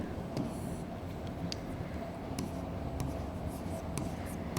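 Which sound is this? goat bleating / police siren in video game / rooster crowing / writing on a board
writing on a board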